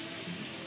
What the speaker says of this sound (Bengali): চিংড়িটা ভালো করে ভেজে নেব।